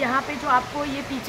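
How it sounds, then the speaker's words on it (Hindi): Water flowing far off near Katra makes a steady, soft rushing hiss beneath someone speaking close to the microphone throughout. "ये पानी की आवाज है जो कि बहुत दूर से बह के आ रही है।"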